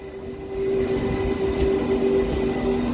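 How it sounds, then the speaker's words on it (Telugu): At Shadnagar railway station, a steady low rumble comes from a train standing nearby, with a sustained mechanical hum over it. The sound swells slightly, then holds loud and even, with no talking. "షాద్ నగర్ రైల్వే స్టేషన్లో ఈ పక్క ఏదో ట్రైన్ ఆగుంది"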